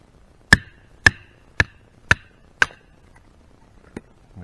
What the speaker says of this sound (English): And now I'll split down my chopping block.